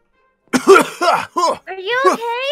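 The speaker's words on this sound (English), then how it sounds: "I'm just pretending about that cough." Someone fakes a cough in a playful, exaggerated way: a few short throaty bursts close to the microphone, then a drawn-out vocal groan, all in one nearby voice.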